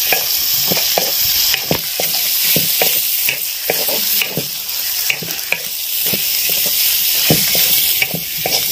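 Chicken frying over high flame with green chillies and chilli powder in a pan, a steady loud sizzle broken by regular scraping stirs throughout, with no voices.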